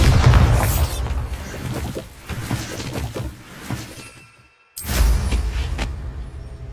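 A Bombarda spell explosion in the video game Hogwarts Legacy: a loud booming blast with crumbling, shattering debris fading out, then a second sharp impact and rumble after a brief silence.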